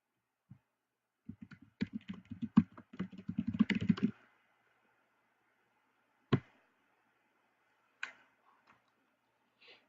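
Keystrokes on a computer keyboard typing a search term, a quick rattling run of clicks followed by a few isolated taps, likely mouse clicks, close and quiet in a silent room.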